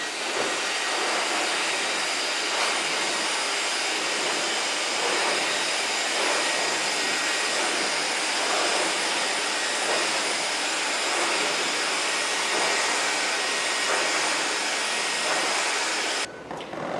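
A hair dryer blasts a steady, loud rush of air without pause while hair is wrap-dried in a salon, the roar cutting off abruptly at the very end.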